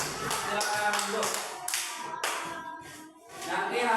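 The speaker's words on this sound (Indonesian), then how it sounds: "Ya, tepuk tangan" Classroom of young students clapping their hands in a short, uneven burst of taps lasting a few seconds, fairly close and moderately loud, with faint voices underneath.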